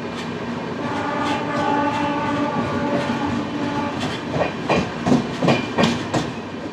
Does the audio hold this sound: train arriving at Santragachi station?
yes